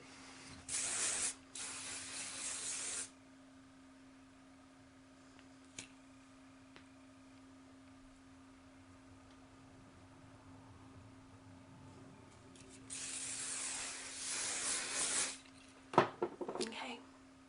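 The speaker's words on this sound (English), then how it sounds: "spray your hair with your favorite hairspray using the Garnier Fructis that you can get at Walmart" Garnier Fructis hairspray hisses onto hair in two bursts, one early and one longer near the end, soft and close, with faint ticks between.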